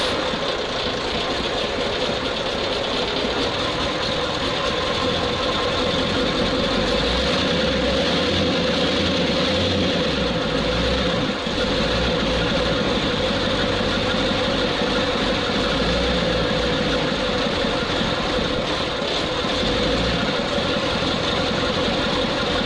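A ZIL truck engine idle for 20 years, running steadily at a loud, rough, knocking idle throughout, close and continuous with a low rumble and a slight rise in revs partway through, no talking.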